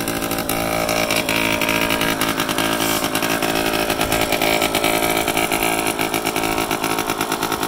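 A 1985 Honda Gyro S three-wheeler with only 684 miles has its small engine running steadily up close, a loud, even, buzzing putter that holds throughout with no talk.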